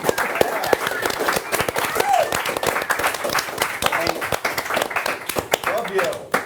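A crowd applauds with dense, steady clapping throughout, voices mixed in underneath.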